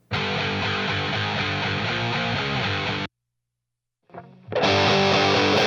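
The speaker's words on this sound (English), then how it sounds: "the first tracks that we're going to do will be Tommy's rhythm tones, and like I said, we had his original tracks" Heavily distorted rhythm guitar recorded in a studio, a dense sustained chugging passage for about three seconds, a sudden cut to silence, then a brief scratchy pick noise before the thick, distorted tone returns loudly.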